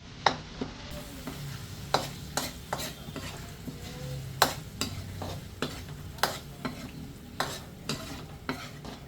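Sardines are added to a pot of misua soup and stirred, and a utensil scrapes and taps against the pot in a rough rhythm of sharp clicks over a soft simmering sizzle, close and fairly quiet, with no talking.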